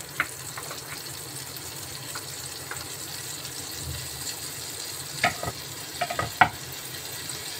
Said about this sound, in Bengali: ফোড়ন দিচ্ছি জিরে